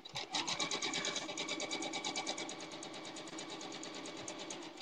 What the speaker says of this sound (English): now I am ready to sew these two rows together.